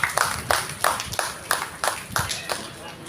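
Applause from an audience at a civic felicitation ceremony, heard as a string of distinct clap bursts roughly every third of a second, fairly close and moderately loud against a quiet hall.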